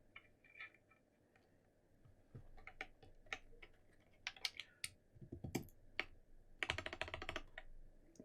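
Keystrokes on a Monokei KFE CE Special Edition mechanical keyboard, scattered single clacks at first, then quicker bursts of typing with a fast flurry near the end, close and fairly quiet with no voices.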